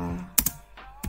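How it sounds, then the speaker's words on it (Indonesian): Computer keyboard keys being typed while entering Linux terminal commands on Ubuntu, with a few sharp, close keystroke clicks in quick succession over a faint background hum. "Kita ketikkan"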